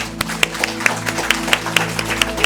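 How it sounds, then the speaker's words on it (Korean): A church congregation claps in thanks during a Sunday worship service, giving a sparse run of separate, moderately loud claps at a steady pace over a low sustained hum, with no talking. "감사의 박수"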